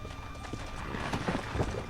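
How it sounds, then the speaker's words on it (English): A horse trots across the ground in Red Dead Redemption, its hooves clip-clopping in a quick, steady rhythm, moderately close but fairly quiet. "I'm already on a horse, bruh."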